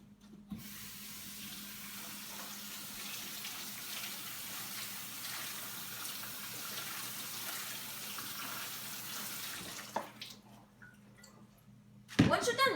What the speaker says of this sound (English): you're going to lightly put your saltfish and rinse it just a bit